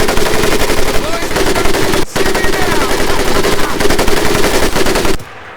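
An M1919A4 .30 caliber machine gun fires in the Medal of Honor video game, a loud, rapid sustained burst of close shots with one brief break, cutting off sharply near the end.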